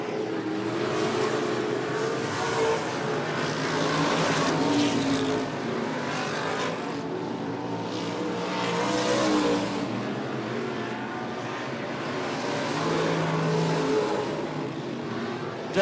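Race cars roar around the 105 Speedway oval in a steady loud engine drone that swells and fades as the pack laps the track over fifteen seconds.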